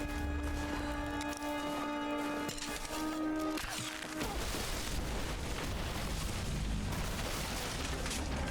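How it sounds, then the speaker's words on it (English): Explosions in the video game Rise of the Tomb Raider: a dense, loud booming rumble that bursts in around four seconds and stays thick and continuous through the rest, after a calmer stretch of tonal game sound. "Not quite sure what's causing explosions though"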